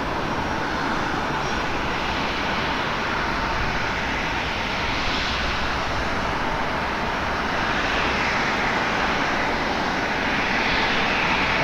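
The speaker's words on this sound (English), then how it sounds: "that's some solid thrust reversing." An airliner roars with thrust reversers on landing at Portland airport, a loud, sustained broadband rumble that holds steady throughout.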